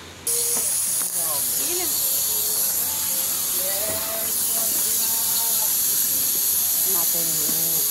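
A pressure cooker softening beef lets off steam in a loud, continuous hiss that starts abruptly and holds steady close by, while people talk over it throughout.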